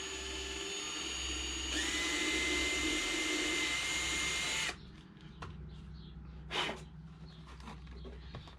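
A power tool whines steadily at high speed while cutting a hole, loud for several seconds before abruptly stopping, followed by quieter handling clatter and a short knock.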